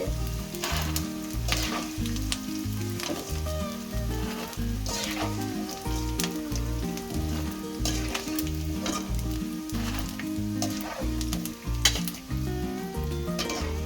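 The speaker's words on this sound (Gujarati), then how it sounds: "એકદમ મસ્ત રીતે ગુંદર તળી લેશું।" Continuous crackling sizzle of edible gum frying slowly in homemade ghee over low heat, with steady tonal music playing underneath throughout.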